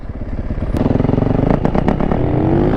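Dirt bikes roaring loudly close by during an urban street ride, a dense rattling engine drone with rising revs and a rapid crackling exhaust.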